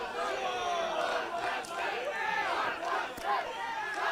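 A wrestling event crowd in an arena cheers and chants before the main event, a dense continuous roar of many voices with rising shouts throughout.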